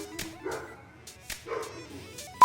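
Dogs in a home kitchen where a cast iron steak and garlic mashed potatoes are being cooked bark and yip in short bursts, a few sharp yaps spaced across a couple of seconds, moderately close.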